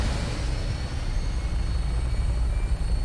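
A Vertibird aircraft lifting off in Fallout 4, a steady broad roaring rumble of engines and rotor wash held at an even loud level throughout, with no clear voices.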